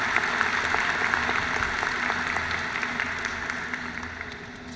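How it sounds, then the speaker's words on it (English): An audience at a university commencement ceremony claps in a continuous, even wash of applause that gradually fades, with no voices on top. "let's applaud these individuals."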